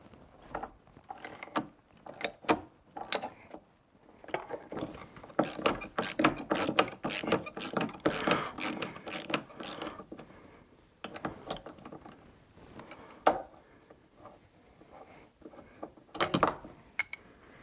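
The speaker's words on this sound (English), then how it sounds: "we're going to use a 16mm socket to break that loose" A ratchet fitted with a 16mm socket breaks loose and turns out the upper seat belt bolt on a Saab 9-3, giving bursts of close, fast metallic clicking with short pauses between strokes.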